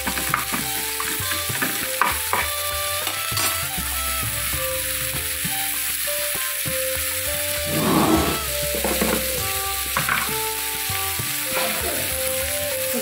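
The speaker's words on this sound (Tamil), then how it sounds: "லைட்டா வதக்கிக்கணும், ரொம்ப வேண்டாம்." Large-cut onions with a little salt sauté in a pan, a steady soft sizzle with scraping stirs and clicks from the utensil throughout.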